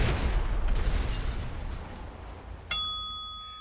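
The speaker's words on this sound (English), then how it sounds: "that explosion you heard was Donkey paying the price for helping the Ascent vehicle" A vehicle blows up in GTA Online, a deep rumbling boom that fades away over a few seconds, then a sharp ringing metallic clang sounds alone near the end.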